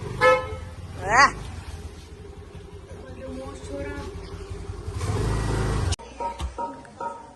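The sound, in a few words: car horn honking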